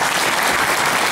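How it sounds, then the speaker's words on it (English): Audience applause at a discussion session about MDRS, a loud, even burst of many hands clapping filling the whole moment. "A round of applause,"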